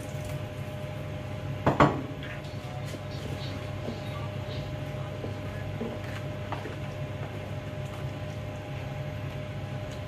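A spoon clanks sharply against a bowl while stirring blended bean mixture for steamed moi-moi, one brief clatter near the start and then only faint scraping under a steady kitchen hum.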